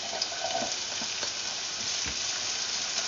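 Ginger sizzles steadily in hot oil after golden-brown garlic, a dense, even frying hiss heard close up with no voices.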